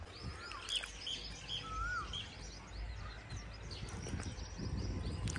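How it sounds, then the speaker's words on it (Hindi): An Asian koel calls outdoors, a few short, clear rising whistles standing out over a steady rumbling background, with other faint bird chirps around. "कोयल की आवाज़ आ रही है"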